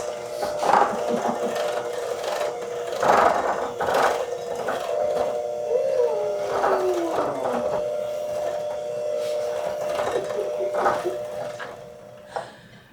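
Electric stand mixer laboring through thick molasses sugar cookie dough, a strained, uneven motor whir with repeated clunking surges and knocks as the beaters catch, fairly quiet and close, with no speech.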